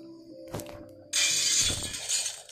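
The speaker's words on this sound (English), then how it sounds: "That was the sound of shattering glass." Glass shatters in the Roblox video game: a sudden loud, bright crash that holds as a dense crackling spray of shards for over a second after a few faint thumps and clinks.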